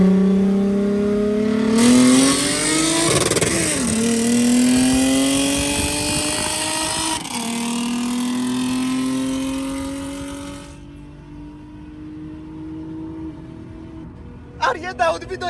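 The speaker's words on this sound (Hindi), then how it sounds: "हमारी तो 3GR है मार्क एक्स, लो कंप्रेशन इंजन वाली" Toyota Mark X race cars with low-compression 3GR engines rev and accelerate at a Saturday track night, engine pitch climbing in long sweeps, with people talking over the roar.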